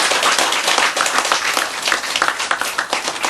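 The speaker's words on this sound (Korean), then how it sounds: "박수!" Dense, loud applause from a gathered audience during a Buddhist sutra lecture, with many hands clapping together in a steady, bright roar that keeps going without a break.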